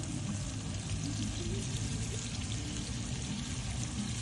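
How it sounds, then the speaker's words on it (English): Water poured into curry gravy in a pan, a steady broadband splashing pour running the whole time with a low murmur of sizzling or talk underneath. "just going to add a little bit of water in"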